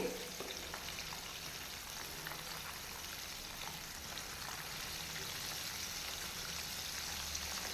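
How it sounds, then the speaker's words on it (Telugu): KFC-style chicken pieces deep frying in oil over a medium flame, giving a continuous close bubbling sizzle that stays even and unbroken from start to finish. "మంచిగా మీడియం ఫ్లేమ్లో కనీసం ఏడు నుంచి పది నిమిషాల పాటు ఫ్రై అవ్వనివ్వాలండి"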